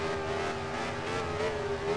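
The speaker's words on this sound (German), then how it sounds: "Da höre ich andere Autos auf die Kurve 1 zufahren" Formula 1 race cars approaching turn 1 in the video game Grand Prix 4, a steady droning engine whine with slightly shifting pitch, moderately faint and continuous with no talk.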